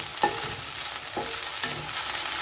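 Okra pieces fry in a pan for a traditional Havyaka bendekayi dish, giving a steady close sizzle broken by three sharp scraping taps from a stirring utensil.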